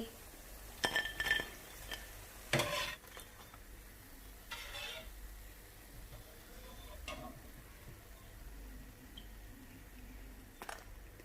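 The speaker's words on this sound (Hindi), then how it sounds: "हिलाते रहेंगे, ये क्रंची बनते जाएंगे आपके पकौड़े।" Pakoras fry quietly in oil while a utensil clinks and scrapes against the pan a few times, with soft stirring in between.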